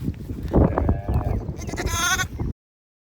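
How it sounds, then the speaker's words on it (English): A female sheep (ewe), held by hand on a homestead in Kodak, Tennessee, gives a loud, close, wavering bleat lasting about two seconds, which cuts off abruptly. "Now I am holding the ewe, which is a female or a girl sheep."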